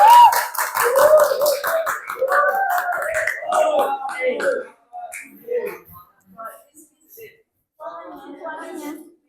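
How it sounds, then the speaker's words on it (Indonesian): A classroom of students claps together for a presenting group, a burst of rapid mixed applause over children's voices, fading into scattered claps and talk. "Berikan aplaus untuk kelompok 2 terlebih dahulu untuk biar semangat."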